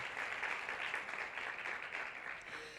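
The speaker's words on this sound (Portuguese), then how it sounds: "Palmas para ele" Brief, soft applause from the floor of a youth parliament session at the São Paulo Legislative Assembly, honoring a deputy. The clapping is even and hushed, tapering off within three seconds.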